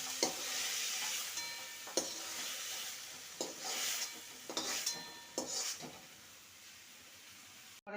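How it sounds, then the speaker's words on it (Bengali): Ridge gourd frying in a pan, sizzling steadily while a utensil scrapes and stirs it at intervals, close and clear with no voices. "আর একটুখানি ভেজে নিলেই ঝিঙেটা ভাজা হয়ে যাবে"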